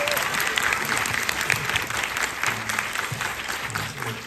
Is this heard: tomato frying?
no